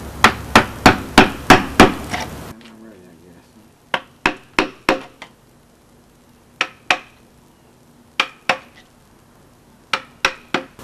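Sharp, ringing hammer blows strike a chisel carving a wooden sculpture of a pelican, first a rapid steady run, then short irregular groups of taps with brief pauses between.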